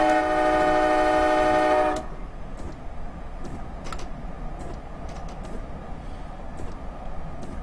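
ALP 46 electric locomotive on the North Jersey Coast Line in Train Simulator 2016: a loud, sustained horn blast for about two seconds, then a steady running rumble with occasional clicks and clanks.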